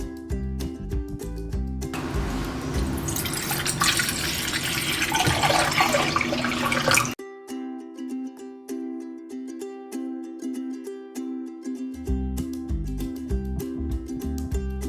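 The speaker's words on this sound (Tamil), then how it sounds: "அதில் இப்போ ஒரு கப் தண்ணி ஊற்ற போகிறோம்." A cup of water poured from close by into an empty bowl in a kitchen, a splashy rush lasting about five seconds under steady background music, then stopping abruptly.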